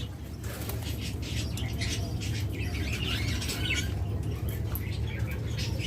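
Albino red-eyed pigeons in a pair, with soft chirps and brief wing flaps over a steady low background hum, close by and continuous.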